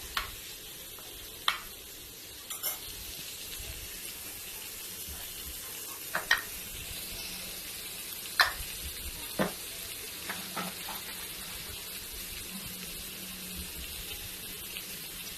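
A ladle scrapes and stirs chickpea and broad bean curry in a pan over a soft steady sizzle, with several sharp metallic clinks spaced through the quiet cooking hiss.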